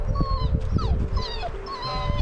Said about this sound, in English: the dog's impatient.